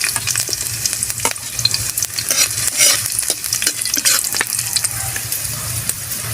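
Garlic and ginger frying in a pan, loud steady sizzling with stirring scrapes and taps throughout, close up and free of talk.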